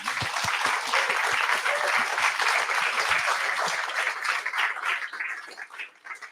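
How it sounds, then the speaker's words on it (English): A tech meetup crowd applauds a speaker, with loud sustained clapping that starts strong and thins out toward the end as individual claps become distinct. "please give him a huge round of applause."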